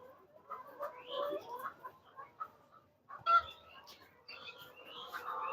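Layer hens on a poultry farm cluck in scattered bursts that rise and fall, with a short lull around the middle before the clucking picks up again, close and moderately loud.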